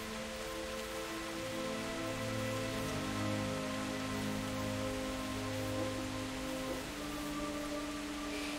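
Steady rain patters continuously in Kingdom Come: Deliverance, a soft even hiss of drops on surfaces beneath sustained background music tones, with no voices.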